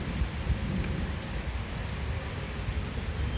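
Steady, soft rain hiss with a low rumbling undertone, continuous and even throughout, no voices.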